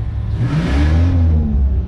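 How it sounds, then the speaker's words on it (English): A car engine, shifted into park, revs hard with a rising, whirring roar, close and loud throughout the short burst with no talking. "Put it in park and see how slow it revs."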